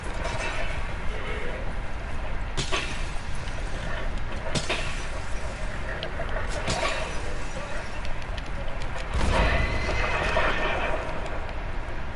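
A horse in the video game Red Dead Redemption 2 whinnies and its hooves clip-clop against a busy game soundscape, with several sharp bursts and a louder thump near the end.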